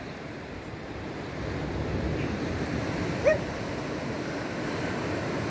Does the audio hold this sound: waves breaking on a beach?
yes